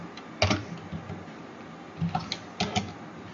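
Quick bursts of key presses on a computer keyboard while a command is typed, a few clustered clicks then a pause and another short run, close and soft with no talk.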